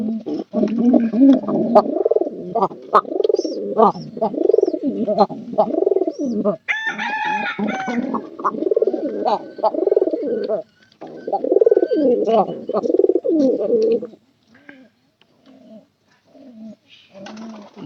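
Pigeons in a coop, including a recently paired female, coo loudly and continuously in overlapping rolling calls, with a brief rooster-like crow in the middle and sparser coos near the end.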